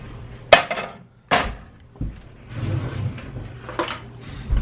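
A small whisk is pulled from among kitchen utensils, producing sharp metallic clatters and rattles as tools knock together, close by, in several separate bursts with short pauses.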